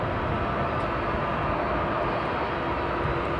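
A Delta airliner taxis toward runway 24 at Amsterdam airport. Its engines give a steady, broad rumbling drone that stays even throughout, heard from a moderate distance with nothing else over it.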